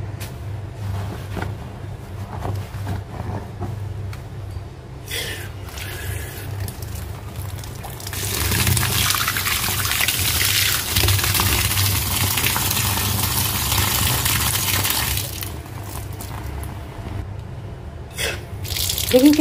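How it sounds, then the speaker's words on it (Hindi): Tap water runs and splashes into a kitchen sink as silk clothes are rinsed, a steady close gushing that swells louder midway and then eases, with no talking. "मैं बेसिंग में ही धुल रही हूँ कि आप लोग देखें कैसे इसको धुलते हैं।"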